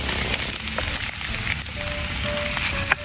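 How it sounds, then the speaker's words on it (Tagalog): Garlic and then onion sautéing in a hot pan, a steady close sizzle of frying that runs throughout with faint scraping and a few small pops, with no talking. "So magigisa na tayo."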